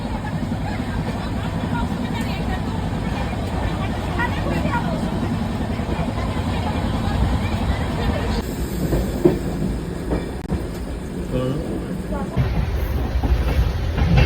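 A passenger train rumbles steadily along the rails on a trip toward Darjeeling, with a continuous close, loud roar and faint clatter throughout, while people chat nearby.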